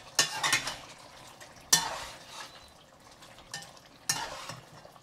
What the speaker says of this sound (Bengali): ভালো করে নেড়ে দিচ্ছি।